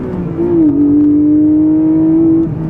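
A Porsche 718 Cayman GTS 4.0 engine is blipped for heel-toe rev matching. The loud, close note dips briefly, then holds a sustained rev before falling away near the end, with no voices.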